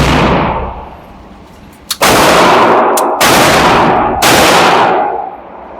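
Loud, close bursts of rapid automatic gunfire from a Kustomworx Vulcan at an outdoor shooting range, roughly four sustained volleys with short gaps and a long ringing tail.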